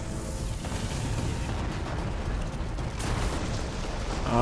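An explosion in Horizon Forbidden West rumbles as a loud, broad roar that swells and stays heavy for several seconds, close and dense, with no voices over it.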